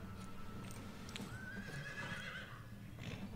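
Horse in the Lego Harry Potter video game gives a drawn-out neigh with a rising whinny over soft clip-clop hoofbeats, fairly quiet and alone without speech.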